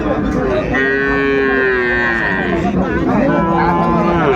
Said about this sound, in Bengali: এই যে একটা ষাঁড় বাচ্চা ওগুলা দেখতেছে না